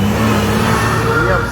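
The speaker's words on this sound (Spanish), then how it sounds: "Logramos contar en el camino unos 12 camiones." Road traffic with several trucks rolling past in Haiti, a steady loud engine drone and tire roar filling the whole moment, with a voice talking over it.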